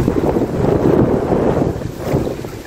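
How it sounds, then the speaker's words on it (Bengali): Large waves churn across a broad river wetland, a loud, steady rush of water and gusting wind buffeting close by, with no voices. "ঢেউগুলো দেখেন কত বড় বড় ঢেউ"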